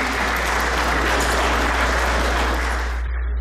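Audience applause for past presidents at a Polish Ball in Arizona, a roomful of people clapping steadily and loudly, then cutting off abruptly near the end.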